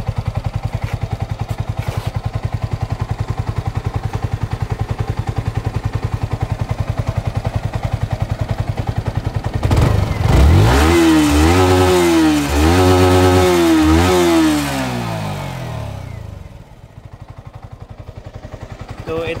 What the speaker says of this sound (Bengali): তো বাইকের সাউন্ড শোনেন